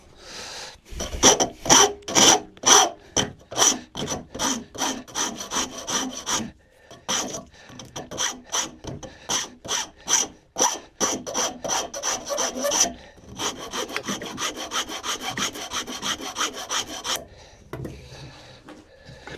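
A coarse rasp files across wood for a dog gate, its strokes falling in quick close-up rhythmic bursts with a brief pause near the middle and then a steadier stretch of rasping.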